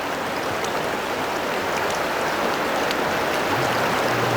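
Teton River rushing through a rocky gorge in Grand Teton canyon country, a steady, loud broadband wash of flowing water that fills the whole scene, with a faint low hum entering near the end.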